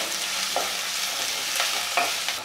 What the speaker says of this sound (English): First I will add chopped onion. I will fry this till it's turned golden brown in color.